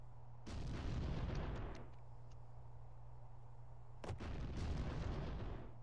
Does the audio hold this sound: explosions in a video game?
yes